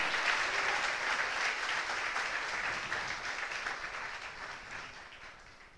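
A church congregation applauds during a Portuguese-language sermon, a broad sustained wash of many hands clapping that slowly fades in level, heard from some distance without speech over it.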